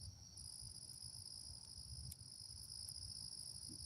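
Crickets chirp steadily at night in a continuous high-pitched trill, with a second band of chirping beneath it and low rumbling outdoor noise underneath.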